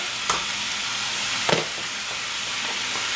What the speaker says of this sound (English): we want this ground beef to completely cook and brown up